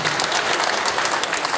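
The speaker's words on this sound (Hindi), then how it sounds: "जोरदार ताली बजा दीजिए" Dense, steady applause from a crowd at a seminar, loud and continuous throughout.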